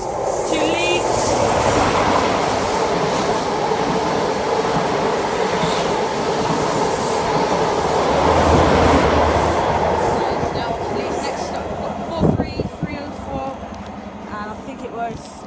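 A CrossCountry passenger train passes at Dawlish, heard as a loud, sustained rumble and clatter that fades toward the end, with some faint wheel squeal.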